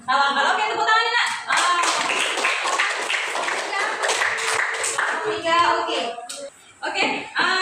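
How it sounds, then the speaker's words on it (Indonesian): A class of children claps hands together in a classroom, a steady dense patter of applause lasting several seconds, with kids' voices chattering through it and a short dip before a final burst. "Oke, tepuk tangan Nak"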